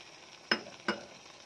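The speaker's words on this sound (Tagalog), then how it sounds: "Haluin po natin saglit ang ating chicken." Two sharp metallic clinks of a utensil against a pan while chicken with turmeric and chicken masala is stirred, spaced about a third of a second apart over a quiet background.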